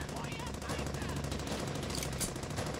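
Sustained machine gun suppressing fire in the World War II shooter Brothers in Arms: Hell's Highway, dense rapid bursts running throughout under battlefield noise, with a voice talking over it.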